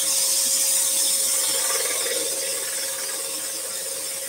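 A scroll saw makes a deep compound cut through wood for a candle, giving a steady, close, rattling mechanical buzz that fades slightly toward the end, with no speech.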